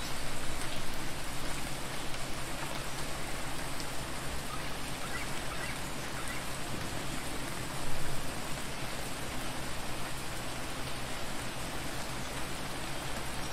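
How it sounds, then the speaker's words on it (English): Steady rain falls throughout a video game scene as a dense, even hiss of drops that stays constant and moderately loud from start to end, with a brief swell near the middle. "Hope the rain stops soon."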